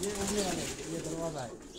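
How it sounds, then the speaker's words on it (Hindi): Pigeons cooing in a rooftop loft, low rolling coos repeating close by over a breathy background, with faint talk mixed in. "ये भी उड़ने वाले लातादाद कबूतर हैं डॉक्टर साहब के पास।"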